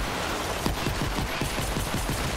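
Rapid automatic gunfire in the video game Fortnite Save the World, a fast regular burst of shots repeating across the whole moment, close and loud.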